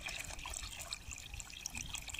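Faint trickling water with small bubbling and gurgling sounds, steady and quiet, as if flowing into a cavity.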